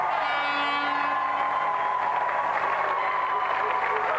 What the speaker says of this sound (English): Round of applause for our volunteer.